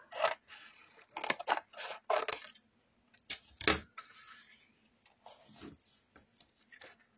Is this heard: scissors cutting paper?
yes